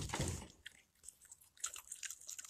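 A Virginia opossum named Ophelia crunches on food such as fish and fruit, a few close, wet bites and chewing crunches in a quiet room.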